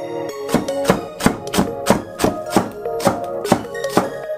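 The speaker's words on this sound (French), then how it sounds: "Prenez un petit oignon vert, coupez-le en rondelles" A knife slicing a small green onion into rings on a cutting board, about a dozen crisp, evenly spaced chops, close and loud with no talking.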